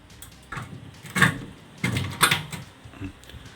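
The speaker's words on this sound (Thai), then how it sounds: "ปิดประตูตู้ครับ" The metal door of a CCTV equipment cabinet swings shut, giving a few soft thuds and rattles against a steady background hiss, with no voices.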